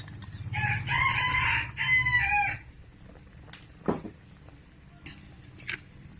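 A rooster crows once, a long and loud call lasting a couple of seconds, followed by quieter scattered farmyard sounds and a brief clucking note.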